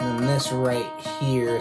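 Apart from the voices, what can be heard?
None of the usual background noises is heard.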